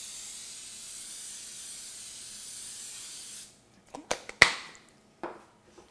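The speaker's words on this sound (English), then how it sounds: "We're going to spray it with nonstick spray." Nonstick cooking spray hisses steadily onto a loaf pan for about three seconds, then stops, followed by a few light clattering knocks and taps of the pan.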